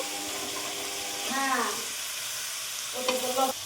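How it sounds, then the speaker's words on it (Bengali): Meat stirred and fried in a spice paste in a pan, a soft sizzle with scraping stirring strokes that swell twice, fairly quiet and close. "এখন আমি মাংসগুলো এই মশলার মধ্যে এটা আমি নেড়ে নেব"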